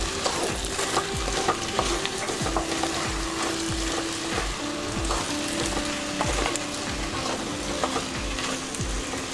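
Steady loud sizzle of an egg, drumstick and prawn curry frying in a pan as chili powder is stirred in, with repeated rhythmic scraping strokes of a spoon, close up and without talk.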